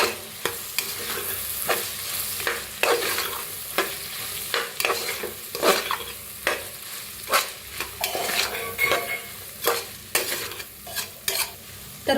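Sprouted pulses and peas roast with turmeric in a pan, a spoon scraping and stirring in repeated strokes over a soft background sizzle, each stroke a distinct close rasp.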